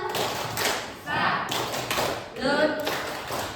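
A group claps out a rhythmic tepuk salut chant at a school training session, bursts of patterned clapping mixed with chanting voices in short phrases.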